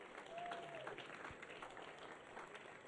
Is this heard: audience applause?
yes